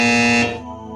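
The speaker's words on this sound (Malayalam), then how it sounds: "അമ്മയാണ് ബസർ അടിച്ചിരിക്കുന്നത്" A quiz show buzzer sounds once in a loud, steady electronic tone that holds for about half a second, then cuts off, leaving faint studio room noise behind.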